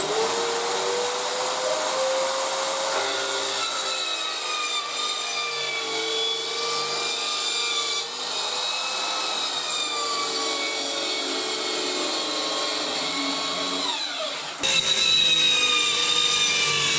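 An Erbauer 650W plunge saw cuts through wood alongside a running shop vacuum, producing a sustained loud whine and whir that holds steady, briefly dips near the end, then restarts.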